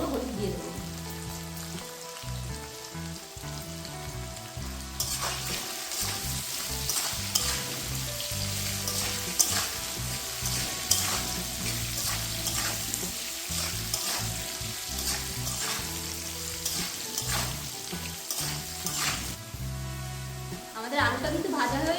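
Potatoes fry in hot oil with salt and turmeric for patol chingri, a steady close sizzle with stirring clatter running throughout, louder bursts of crackle from about five seconds on.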